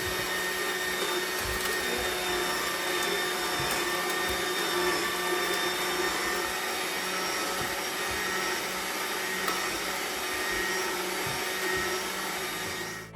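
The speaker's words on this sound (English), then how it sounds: "I tried juicing 4 lemons in each juicer" A slow juicer runs continuously on four whole peeled lemons, a steady loud motor drone with a thin high whine and occasional low knocks and thuds as the fruit catches on the cutting blades.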